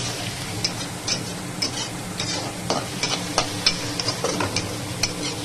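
Garlic frying in hot oil as a tempering for a home-cooked midday meal, a steady close sizzle broken by repeated clicks and scrapes of stirring throughout.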